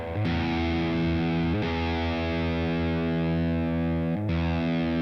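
Sustained distorted electric guitar chords through a Boss Katana amp ring out with a roomy reverb, struck three times and left to sustain between hits.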